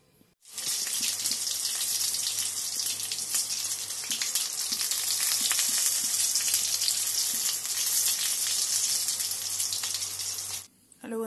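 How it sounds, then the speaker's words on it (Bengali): Eggplant, pointed gourd and pumpkin flower fritters fry in hot oil, giving a continuous, dense hiss that holds steady for about ten seconds over a faint low hum before stopping. "তার সাথে করবো একটু বেগুন ভাজা, পটল ভাজা, আর এই যে কুমড়ো ফুলের বড়া।"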